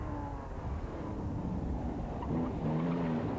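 A historic Porsche rally car on the 1997 Manx International Historic Rally passes with a steady engine roar, rising slightly in pitch and loudness toward the end of the pass, heard alone without talk.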